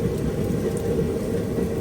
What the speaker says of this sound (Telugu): ఫుల్ వర్షం.